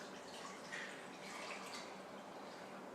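Water pours steadily into a cube-shaped container as it is filled up to the brim, a soft continuous trickling and splashing with no talk over it.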